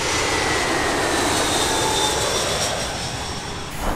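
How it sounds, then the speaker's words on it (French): Low-flying airplane near an airport in Buenos Aires, Argentina, a loud steady engine roar filling the whole stretch and easing slightly toward the end, with no talk. "Pour être aussi proche des avions comme ça, c'est qu'on est vraiment pas loin de l'aéroport."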